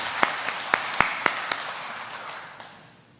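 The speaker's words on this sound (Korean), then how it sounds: "하나님께 영광의 박수 올려드립니다." A church congregation claps in praise: a handful of sharp, evenly spaced claps ring out in a reverberant hall, then thin out and fade into a lingering echo.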